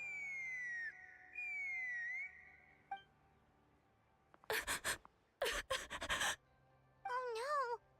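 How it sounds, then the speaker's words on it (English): A character in Genshin Impact whistles near a bridge, giving long sliding whistled notes followed by short bursts of noise and a warbling whistle at the end, fairly quiet and alone. "She's doing the whistle."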